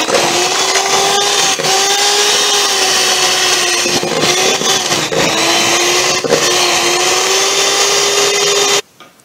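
Electric hand mixer beating room-temperature butter for moka cupcakes, a loud, close, continuous motor whine with brief pitch dips as the beaters bite, then a sudden stop at the end.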